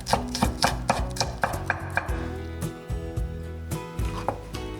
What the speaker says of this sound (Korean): 대파 3분의 1 쪽도 잘게 썰어 줍니다